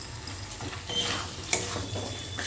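Pointed gourd and potato curry, just sprinkled with a little sugar, is stirred in a hot pan, with scraping strokes over a continuous close sizzle and one sharper clink, no voices.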